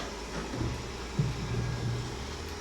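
A Xiaomi S1 robotic vacuum cleans a room, giving off a steady mechanical hum and whir with a few brief bumps, moderately close and heard without voices.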